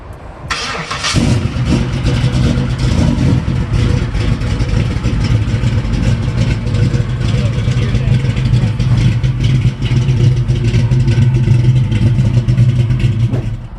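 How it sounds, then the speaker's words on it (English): A 1973 Ford Mustang 351 V8, a Mach 1 tribute, cranks and catches within a second, then holds a loud, deep, rumbling run close by for the rest of the time with only slight swells in throttle. "I'm gonna take my mic off so you can hear how aggressive this motor sounds"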